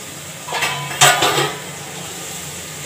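A spoon clinks and scrapes against a dish as turmeric is stirred into food, with a couple of sharp metallic taps around the middle and quiet stirring after, no voices.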